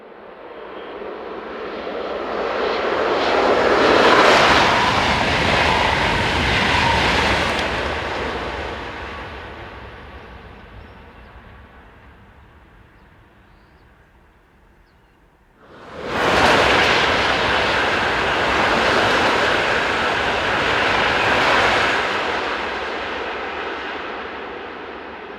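Two TGV high-speed trains, including a duplex set coupled to an older Réseau set, rush past at about 300 km/h. The first roar swells and slowly fades away, then a second abruptly bursts in close and loud.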